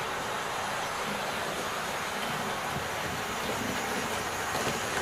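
A Hornby model train with a BR Green locomotive and MK1 coaches, running along the track in a steady, unbroken whir and rumble with a faint, even rail rattle and no pauses.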